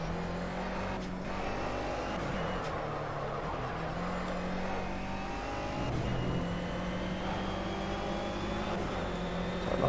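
Race car engines in Project CARS in the final lap of a race, a steady loud drone of revving motors with shifting pitch, rising and falling as cars run close together, continuous throughout with no talking.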